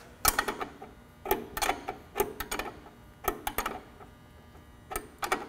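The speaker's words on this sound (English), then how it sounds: "We're going to take a 3/4 inch wrench." A 3/4 inch wrench tightening a Teflon-taped vent plug during assembly of a SnowDogg V-plow, a series of close, sharp metallic ratcheting clicks in short bursts with brief pauses, no talking.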